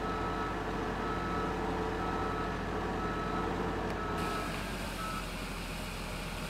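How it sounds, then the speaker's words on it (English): A dump truck in Farming Simulator sounds steady reversing beeps over a continuous engine drone, both at a constant level throughout, with no voices. "I'm just gonna take dump truck loads and dump it."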